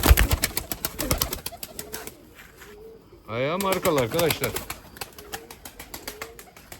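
Pigeons at a loft of breeding birds, with soft cooing and brief wing flutters close by while someone talks in bursts over them.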